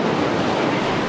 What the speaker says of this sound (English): Waves crashing against the endless beach, full of energy and life.